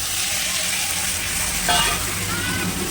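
Water poured into a pan of frying taro stolons sets off a sudden louder hiss over a steady background sizzle, close and continuous with no talk.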